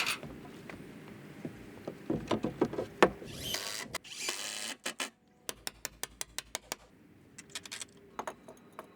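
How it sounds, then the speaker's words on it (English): A power drill drives stainless screws into wooden deck boards on a pressure-treated lumber floating dock, with bursts of whirring followed by a run of short, sharp clicks and taps, fairly close and with no talk. "all I'm doing right now is I'm putting 2 screws, one on each edge, to get the deck boards in place"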